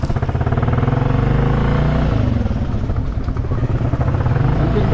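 A motorcycle engine idles steadily nearby, a loud even rhythmic putter with a slight clattering texture that holds throughout five seconds.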